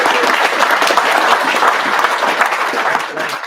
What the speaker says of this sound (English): let's give him a round of applause for taking good care of it